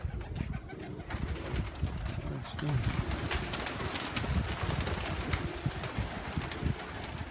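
Pigeons coo in a loft or yard, low throaty calls rising and falling over steady background noise, while someone talks through much of it.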